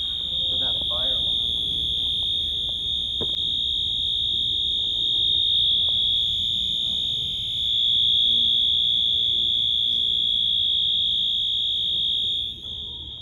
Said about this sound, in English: There's a fire alarm at the Brooklyn College station.